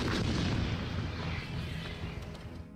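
A 155 mm self-propelled artillery gun fires a round, a heavy deep boom that rolls and slowly fades over a few seconds.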